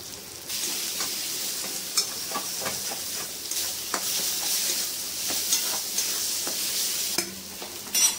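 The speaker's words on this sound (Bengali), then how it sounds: "এটাও ভালো করে কষিয়ে নেব।" Masala being stir-fried in a pan, a steady loud sizzle with repeated sharp scrapes and clinks of a spatula stirring, close up, with no talk.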